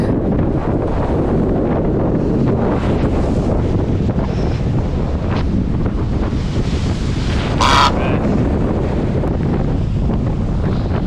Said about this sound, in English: It was the same kind of story with the wind and the tide here